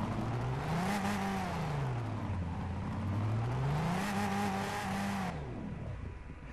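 A turbocharged car engine in Gran Turismo 6 drones steadily, its pitch climbing and falling in two smooth revving sweeps, loud and continuous before cutting off near the end.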